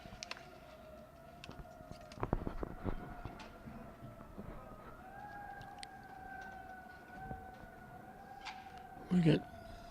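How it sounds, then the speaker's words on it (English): Emergency vehicle sirens wail outside a high school baseball game, two steady rising-and-falling tones running continuously at moderate distance, while a commentator talks over them and scattered crowd noise and clatter pop in. "We get sirens all over the place."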